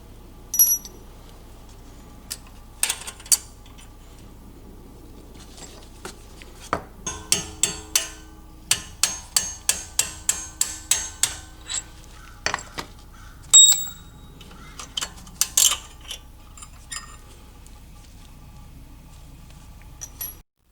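A pin on Brembo brake calipers of a Genesis G70 is tapped out with a series of sharp metallic hammer strikes, sparse at first, then a rapid rhythmic run, then scattered clinks against a quiet background.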